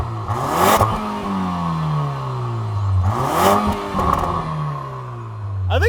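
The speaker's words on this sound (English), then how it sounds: "If you want to hear the visceral noise of a base Porsche Macan and decide for yourself if it sounds good enough" A base 2024 Porsche Macan engine revved repeatedly, two rising throttle blips that fall back to a steady idle hum, close and loud, with no talking.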